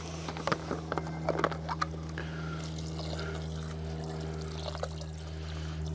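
Water poured into a pot on an outdoor EcoZoom stove with glowing coals, making soup; a soft trickling pour runs through the first couple of seconds over a steady low hum, then fades to quiet background.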